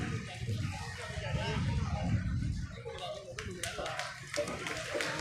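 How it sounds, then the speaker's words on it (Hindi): Applause from an audience at a panchayati raj representatives' honour ceremony in Tosham, Bhiwani, a steady crowd clapping with scattered sharp hand claps, loud and continuous, with voices mixed in. "जोरदार तालियां बजा करके, दोनों हाथ ऊपर करके तालियां बजा करके स्वागत करें"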